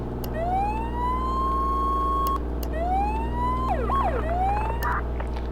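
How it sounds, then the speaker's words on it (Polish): Police car siren mod in the video game Flashing Lights, rising and holding wails alternating with quick yelp sweeps over a constant low engine drone, loud and continuous. "Pracuję jeszcze nad syrenami bo te syreny zdecydowanie nie pasują do gry."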